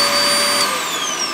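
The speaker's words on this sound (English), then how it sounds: "it means we have a lot of battery power to power things like, which we forgot to mention, our central vacuum cleaner" A central vacuum cleaner built into a camper van runs steadily, a loud, even whoosh of rushing air with a faint high whine that drifts slightly in pitch.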